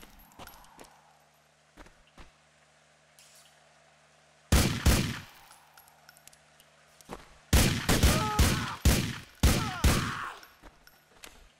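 Gunfire in Grand Theft Auto 4: a few faint distant pops, then a loud shot followed by a rapid cluster of close, sharp cracks, with quiet gaps in between.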